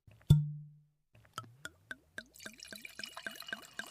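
A cork pops once loudly, then after a short pause red wine glugs from the bottle in a steady run of rising gurgles, close and clear with no talk.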